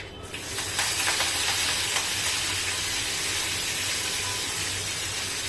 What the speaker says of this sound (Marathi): त्यामध्ये टाकते हिंग कढीपत्ता थोडं तोडून टाकते